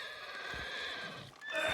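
A horse in Red Dead Redemption 2 lets out a high, wavering whinny over faint hoofbeats, then a second sharper neigh rises near the end, fairly close but not loud.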